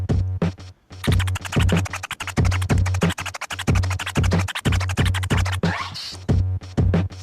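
Chirp scratches on a turntable at about 92 BPM: quick, clipped back-and-forth cuts repeat in a tight, steady rhythm over a thumping looped beat, loud and close, with no talking.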